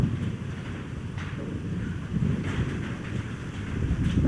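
Strong wind gusting through a forest during a storm as rain begins, a steady broad roar with buffeting swells and microphone rumble, no voices.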